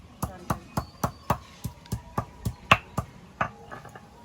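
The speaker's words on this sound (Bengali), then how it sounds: "অনিমা গরম মশলা বাটার দায়িত্ব নিয়েছে" Whole garam masala spices being ground on a grinding stone, a sharp regular knocking and scraping at about two strokes per second, close and fairly loud, with no talk over it.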